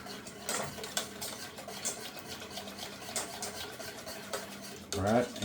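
A spoon stirring milk into a roux for mornay sauce in a pot gives a soft, steady scraping and swishing, faint and close, with brief clinks near the end and no talk over it.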